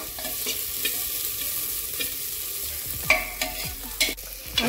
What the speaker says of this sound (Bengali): আর এটা মই কম গ্যাস করে ভাজি আছো